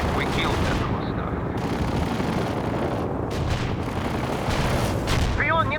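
Heavy artillery barrage in the World in Conflict strategy game, a continuous loud rumble of overlapping booms and blasts with no gaps and a faint voice briefly underneath.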